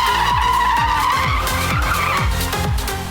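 Tires skidding hard on a Mercedes A45 S as it drifts, a loud continuous screech with engine note rising and falling in repeated surges, close and sustained throughout.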